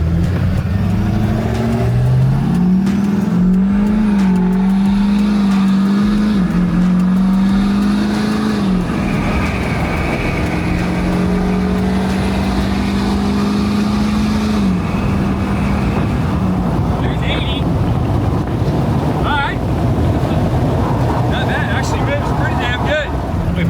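A Hummer truck accelerates hard on a road, its engine roaring loud and close with rising and falling revs over a constant rumble, while someone talks over it.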